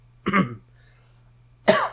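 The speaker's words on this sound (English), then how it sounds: "I coughed away from the mic." Two sharp coughs about a second and a half apart, close and fairly loud, over a steady low hum.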